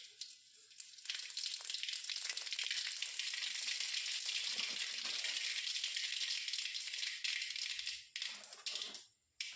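Ingredients frying in heated sesame oil, a bright, hissing sizzle that holds steady and close for most of the clip, then thins and drops away near the end.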